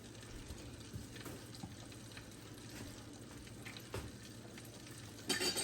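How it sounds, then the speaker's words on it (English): Butter melting in a skillet on the stove before shrimp are added, giving a soft, steady low sizzle with faint crackles and a brief louder burst near the end, no talking. "We're gonna let that butter melt a little bit more."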